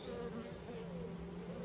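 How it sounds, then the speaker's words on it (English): Honey bees hum steadily inside a hive after a frame inspection, a dense continuous buzz at low-moderate level with no voices over it. "We need enough bees in there to get through the winter."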